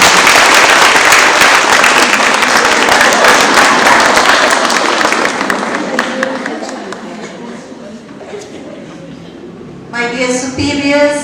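An audience at a religious province's silver jubilee celebration gives a big round of applause, dense and loud at first, then tapering off before a voice begins speaking.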